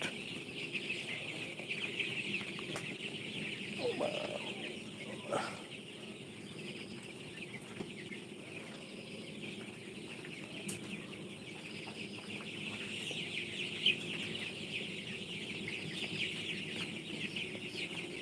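Propitas Super chicks cluck and cheep softly in a continuous, low-level chorus, fairly faint and steady, with a few brief clicks and knocks nearby.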